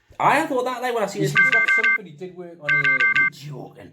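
A phone alarm beeps in two bursts of rapid electronic tones, each lasting under a second, sounding under a group of people chatting and laughing.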